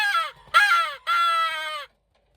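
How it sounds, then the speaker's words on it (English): Story sound effect of a crow cawing: three loud, harsh caws in a row, the last one drawn out, clear and close with nothing behind them. "it was the crow's fault. He was calling and calling to warn us of danger."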